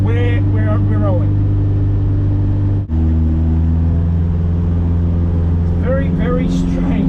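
Ferrari-engined Alfa Romeo 105 driving on the road, a loud steady engine drone heard from inside the car, with a brief dip as the gear changes and someone talking over it.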